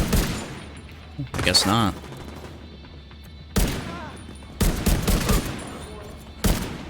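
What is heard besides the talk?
gunfire in the video game The Division 2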